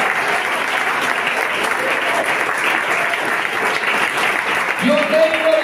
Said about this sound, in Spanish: Yo no sé si usted está aplaudiendo a Jesús en esta mañana.